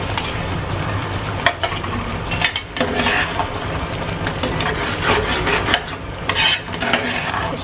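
Goat brain masala fries in oil with garam masala and green chilies, stirred with a spoon that scrapes and clinks against the pan in irregular bursts over a constant close sizzle.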